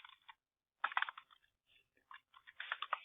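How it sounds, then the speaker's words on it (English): Keys clack on a computer keyboard as a name is typed into a software form: faint, irregular bursts of clicks with short pauses between them, in an otherwise quiet room. "type in your owner name"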